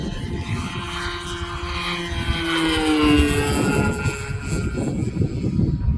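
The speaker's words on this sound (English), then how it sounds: "I love the nitro gas planes. It sounds good too." A Tower Hobbies Kaos 60 gas-powered RC airplane drones overhead, its engine buzz rising and falling in pitch as it passes at a moderate distance, over steady outdoor background noise.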